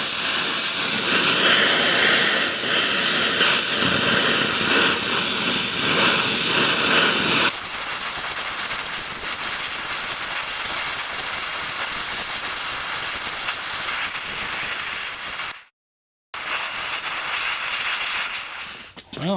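An angle grinder grinds out the edge of a cracked belt sander casting for brazing repair, a loud steady high-pitched whine and hiss that shifts in tone partway through, cuts out briefly, then resumes.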